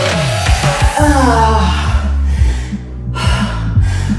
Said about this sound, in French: On est très essoufflé.